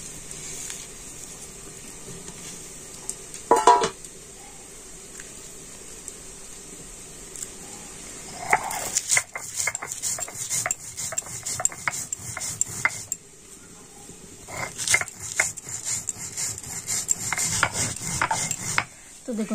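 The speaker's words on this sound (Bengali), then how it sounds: "আর ততক্ষণে আমি যে মশলাটা ভেজে রেখেছি গুঁড়ো করে নেব।" Roasted spices are ground into powder, heard as close, rough grinding and rubbing bursts, with a short clatter early on and longer gritty stretches in the second half, no talk.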